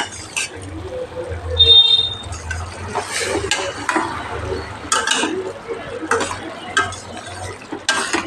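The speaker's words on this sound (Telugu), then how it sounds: "ఒకసారి అయితే కూర కలుపుతున్నామండి" Mutton curry being stirred in a pot, with scraping and clinking of a utensil against metal in irregular strokes, close by, under a man's speech.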